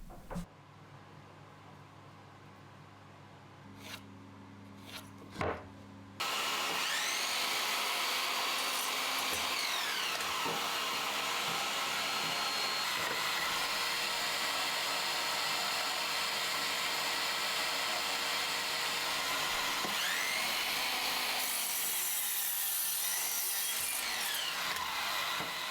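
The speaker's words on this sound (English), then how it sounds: "I've got a miter saw, so I'm going to get that set up and use that to cut everything to its final size" After a few light knocks and shuffling sounds, a miter saw spins up and cuts through pieces of wood, a loud sustained whining roar of the blade and motor that runs on for about twenty seconds, close by.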